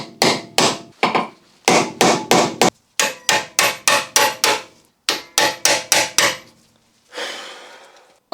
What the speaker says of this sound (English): if you put that in the retaining screw with a little bit of anti-clockwise pressure and hit it with a